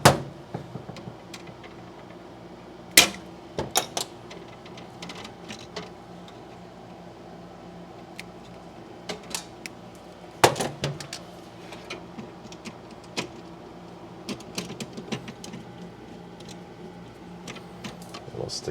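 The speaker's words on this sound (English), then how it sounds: "I'm going to cut that wire about there and we'll strip it back" Dryer outlet wire being cut and stripped by hand, with a few sharp snips and scattered small clicks over a quiet room hum, close up with no talking.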